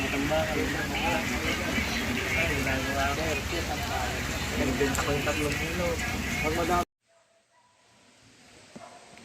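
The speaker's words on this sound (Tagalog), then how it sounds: "Hindi natitigil yung ulan eh." Heavy, persistent rain falls at a fishing spot, a loud steady wash with people talking over it before the sound cuts to a much quieter patch of faint rain.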